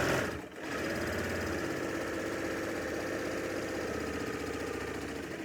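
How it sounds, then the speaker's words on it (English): Steady, close mechanical whir of a sewing machine stitching around the edge of a reusable fabric bag, running continuously at an even pace after a brief dip at the start. "we're going to sew"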